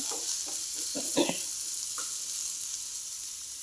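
Masala sizzles in about a tablespoon of oil in a pan, a continuous close frying hiss broken by a few short scraping stirs early on.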